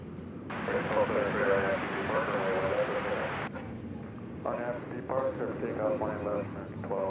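An American Airlines Boeing 737-800 on flight 1273 to Reno rumbles steadily at an airport at night, a continuous broadband roar with voices talking over it throughout.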